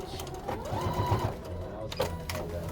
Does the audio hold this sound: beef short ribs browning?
no